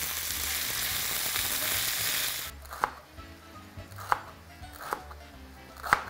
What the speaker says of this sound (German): Und das alles braten wir jetzt richtig scharf an. Dass es scharf angebraten wird, seht ihr wahrscheinlich gerade, weil es ein bisschen spritzt.